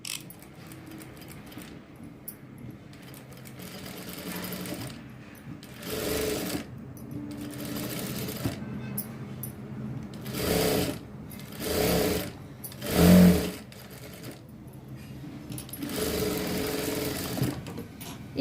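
A sewing machine stitches around the edge of a blouse piece, its motor whirring in several bursts of varied length with short pauses between runs, close and fairly loud, with no talking.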